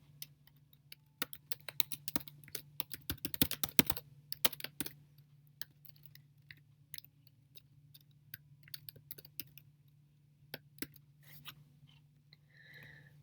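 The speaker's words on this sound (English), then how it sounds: "Let me type in the code that we want to use" Keyboard typing as code is entered for a 3D modeling program, rapid clustered keystrokes dense in the first few seconds, then sparser scattered clicks, close and fairly quiet over a steady low hum.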